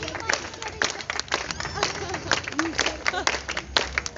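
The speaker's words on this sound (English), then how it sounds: "Everybody, give me some nice rhythmic clapping." Audience clapping in rhythm at a Virginia Beach street performance, a unicycle torch act, with regular claps mixed with crowd chatter and voices throughout.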